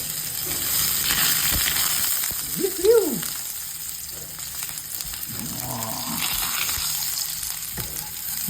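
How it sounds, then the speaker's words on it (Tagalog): Chopped garlic sautés in hot cooking oil as the base for ginataang sitaw kalabasa, a steady close sizzle and crackle throughout, with a brief spatter or utensil squeak partway through and no talking. "Gisahin mabuti"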